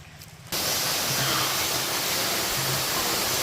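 A tall waterfall deep in forest at Joteswar, heard as a loud, steady broadband roar of falling water that swells in sharply after a brief quieter start and holds constant, with no talk.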